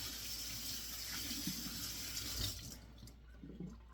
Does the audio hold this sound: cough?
no